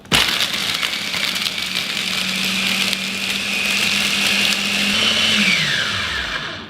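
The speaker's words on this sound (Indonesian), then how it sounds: "putihnya aja kita masukin kita halusin dulu ya" A blender whirs loud and steady as it crushes two egg whites with ice cubes, then its pitch drops as it winds down at the end.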